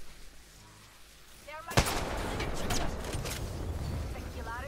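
Sentinel sniper rifle firing in the Apex Legends video game, a single sharp loud crack with a ringing tail amid game sounds, while a player talks over it.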